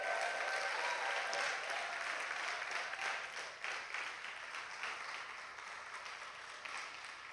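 Steady, faint applause from a congregation at a prayer and intercession workshop in a church, continuous for several seconds and gently tapering off toward the end.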